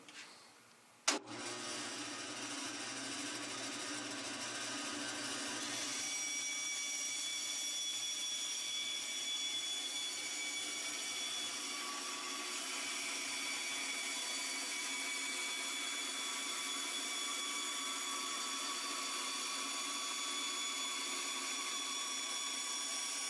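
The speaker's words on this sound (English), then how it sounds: "Cut it on the bandsaw." A bandsaw starts with a sharp click, then runs with a steady, even whine and hum as it cuts along a marked line, continuous and fairly close for about twenty seconds.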